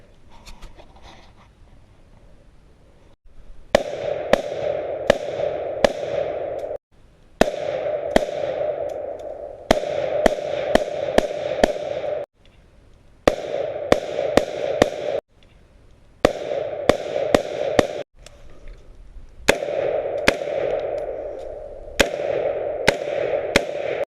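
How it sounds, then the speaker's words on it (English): Bushmaster XM-15 E2S rifle firing outdoors in rapid strings of sharp, loud gunshots, several quick volleys separated by short pauses, with echoes trailing each shot. "here's some real quick clips of me shooting it"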